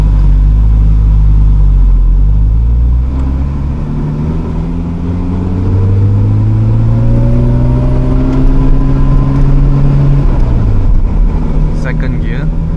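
Mazda RX-7 FC3S rotary engine with a short shifter revs loud and close, pitch sweeping up through first gear, dipping at the shift and climbing again, with someone talking over it.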